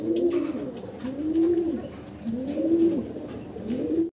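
Fancy pigeons coo in a steady, repeating rhythm of soft, throaty calls, close and clear, with no talking.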